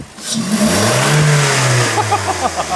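A Toyota Corolla E210 engine fitted with an Injen cold air intake roars up through the revs at full throttle, loud and close, with a deep throaty intake note that climbs and holds.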